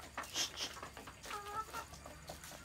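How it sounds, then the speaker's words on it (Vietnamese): Hmong black chickens cluck close by in a farmyard, several short uneven calls and cackles in quick succession at a low, steady level with no talking. "Đây là giống gà đen, giống gà đen gọi là giống gà hơ mông."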